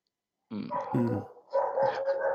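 A dog out in the street gives several loud, close barks in two quick clusters, gruff and slightly growly, with no talk over them.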